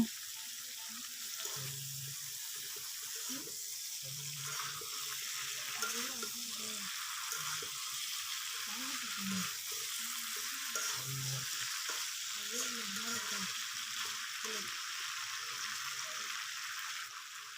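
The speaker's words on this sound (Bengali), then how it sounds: "কপি, আলু ও টমেটো ভালোভাবে মিশিয়ে নেব।" Cauliflower, potato and tomato fry in a pan with a soft continuous sizzle while being stirred, with faint scraping under a voice talking throughout.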